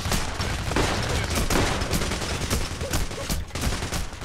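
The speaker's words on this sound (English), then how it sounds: "everybody's shooting at me" Dense, continuous gunfire in the heist shooter Payday The Heist, rapid overlapping shots and bursts from several weapons filling the whole span, loud and close with no pause.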